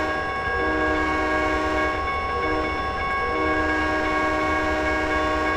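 Locomotive horn in the Trainz 2010 rail simulator, blasting one long sustained chord at a grade crossing over a steady rumble of the moving train.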